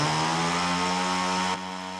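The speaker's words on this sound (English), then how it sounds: "sound of a chainsaw." A chainsaw runs steadily at a loud, close, even drone, then abruptly drops to a lower idle near the end, with no voices over it.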